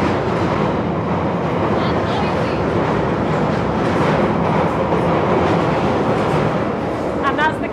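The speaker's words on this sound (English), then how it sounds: "that's the closest I've ever been to trackside. Isn't it just wonderful? With a train running." A London Underground train rumbles past on the tracks near North End, a dense, continuous roar with faint clatter throughout, loud and close, with a person talking under the noise.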